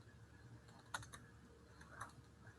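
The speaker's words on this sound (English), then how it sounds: "You're going to have to forgive my typing." Typing on a computer keyboard, a few soft, scattered key taps with gaps between them, faint and close against a quiet room.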